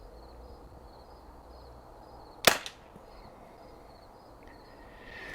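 A Crosman VaporMax air rifle fires a single sharp crack over quiet background hiss, then gives a brief faint follow-on noise as it dumps air, with nothing else standing out.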